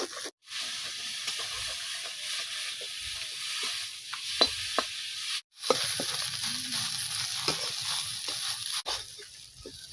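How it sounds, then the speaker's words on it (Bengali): Fish stuffing with gram flour is stirred and sautéed in a pan, giving a steady close sizzle broken by scraping strokes of a spoon and a couple of brief gaps. "বেসন দেওয়ার পরে এটাকে আমি যতক্ষণ না পুরটা রেডি হয় ততক্ষণ এটাকে আমি ভালো করে কষাতে"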